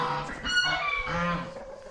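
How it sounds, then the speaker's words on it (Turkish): Geese honk outdoors in overlapping nasal calls, fairly close, with a busy ambient background. "Arkadaşlar kazlar dışarı çıkıyordu bende."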